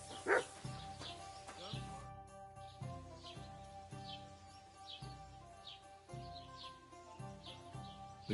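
A dog barks in the medieval video game Kingdom Come: Deliverance II, one sharp nearby bark early on, over game music with soft bird chirps in the background.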